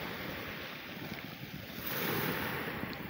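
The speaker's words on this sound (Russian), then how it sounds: "Очень сильные волны." Strong sea waves wash onto a beach, a steady hissing surf that swells louder toward the end, heard close with no voices.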